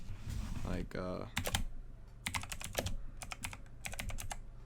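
Rapid clattering keystrokes on a computer keyboard in bursts, close and clear over a low steady background hum, with a brief voice-like sound near the start.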